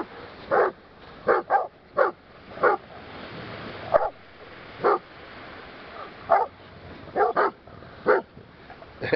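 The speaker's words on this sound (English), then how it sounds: "The girls are barking. Everybody's barking." Dogs bark repeatedly in irregular bursts, some single and some doubled, fairly close and loud against a quiet background.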